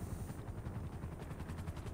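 A helicopter in GTA 5 Online: a close, heavy, continuous rotor thrum with rapid low beats under dense noise, lasting a couple of seconds.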